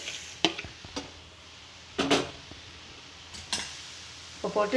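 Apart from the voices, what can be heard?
potatoes stirred into sautéing onions in a pan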